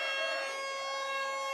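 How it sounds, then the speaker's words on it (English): A sustained siren drones at a rugby league match, a steady wailing tone with rich harmonics that holds fairly even across the moment, carrying over the distant murmur of the ground. "As the siren goes in the background"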